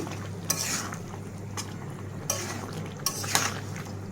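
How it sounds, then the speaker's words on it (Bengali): Cauliflower and potato stir-fried in a spice masala, a low steady sizzle with several separate scrapes and clinks of a spatula against the pan, close and without talking. "এখন বেশ কিছুক্ষণ এগুলো আবার কষিয়ে নিব"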